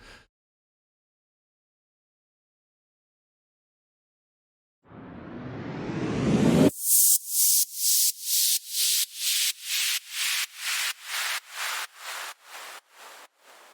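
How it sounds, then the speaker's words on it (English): A swelling reversed sound rises from silence, cuts off, then pulses of bright white noise repeat rhythmically, gradually fading in level: a reverse-into-white-noise effect just before a song's drop. "a little reverse sound into a white noise effect"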